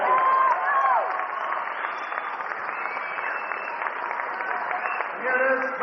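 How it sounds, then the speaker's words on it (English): Applause from the audience at the 1988 Wai Pai Nationals tournament prize presentation, a steady wash of clapping with some cheering that holds for several seconds, loud and continuous, with a voice speaking over it. "Let's give Will Franson a big round of applause."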